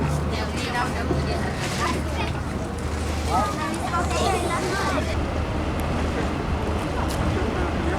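A crowded passenger boat's engine drones low and steady in Stockholm beneath crowd chatter and children's voices, with water sounds around.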